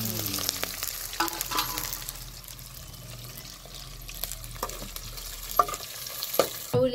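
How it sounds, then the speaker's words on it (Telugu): Onions fry in a pan with garlic, curry leaves and green chillies for a raw banana curry: a moderate, steady sizzle with scattered clinks and scrapes of stirring, and a louder clatter at the end. "ఉల్లిగడ్డలు వేద్దామండి."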